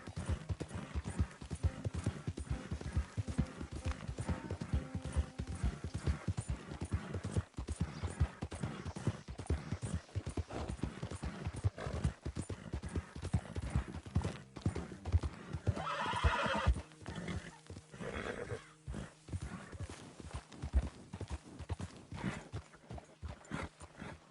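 Horse hooves clip-clop continuously in the Red Dead video game, a steady walking rhythm with whinnies and neighs cutting in partway through, loud and close.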